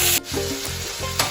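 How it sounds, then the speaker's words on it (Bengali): Spices fry in a hot pan while a utensil stirs them, giving a loud, close sizzle broken by quick scraping strokes. The stirring falls in a rough rhythm, and no one speaks. "এখন এই মশলাটা এখন আরো কিছুক্ষণ ফ্রাই করতে হবে, কষাতে হবে বেসিক্যালি"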